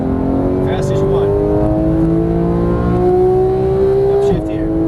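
A Porsche 911 GT3 of the 991 generation accelerates on a race track, its engine note climbing steadily and loudly for several seconds before a brief dip at an upshift, with a voice talking over it.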